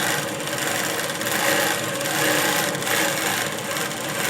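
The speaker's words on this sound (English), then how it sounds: "now I'm going to sew, and I'm going to assess the stitch." An INNOVA Longarm Classic sewing machine stitches continuously, giving a loud, close, steady mechanical hum and rasping whir with gently pulsing intensity.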